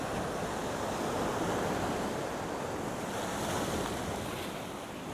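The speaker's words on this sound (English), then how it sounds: "here comes another big wave." A big ocean wave washes past on a seascape shore as a broad, roaring surf wash mixed with wind buffeting the microphone, loud and sustained throughout with no voices.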